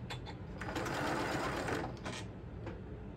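A sewing machine runs across tassel threads, a close burst of rapid mechanical stitching that rises, continues steadily for about a second and then stops, with a few brief clicks of stitches around it.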